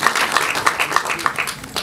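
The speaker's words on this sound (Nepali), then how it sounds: "जोडदार ताली यो जोडीका लागि।" Applause for a couple at a Nepali film song release event, a steady crowd of hands clapping with faint voices underneath, fairly close and continuous.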